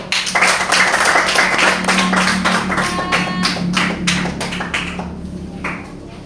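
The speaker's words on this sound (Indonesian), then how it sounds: "kita beri aplaus untuk kelompok 1" A classroom group gives a round of applause, dense close clapping that starts loud and slowly fades toward the end.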